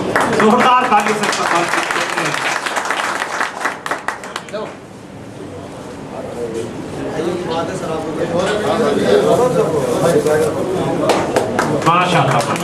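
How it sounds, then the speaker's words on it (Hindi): A crowd at a community gathering claps loudly, with bursts of dense applause that fade midway and then swell again, mixed with voices speaking over it. "जोरदार ताली से"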